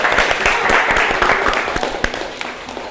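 Audience applause at the close of a lecture session, a dense wash of clapping with sharp individual claps standing out, loud and sustained before slowly thinning toward the end.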